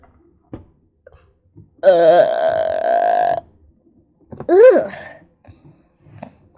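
A loud, drawn-out human burp under a second and a half long, followed by a shorter rising burp or hiccup-like vocal sound, in a quiet room with a few faint background noises.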